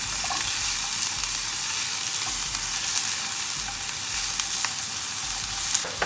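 Onions sautéing in a pan for vegetable momo filling, a steady broadband sizzle with faint stirring scrapes running throughout, close and fairly loud with no talk.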